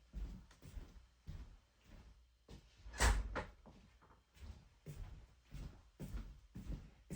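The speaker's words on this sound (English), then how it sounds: "my door just opened. Forgot to close it all the way." An indoor door is pushed shut. A series of soft knocks and clunks ends in one sharper close, all fairly faint in a quiet room.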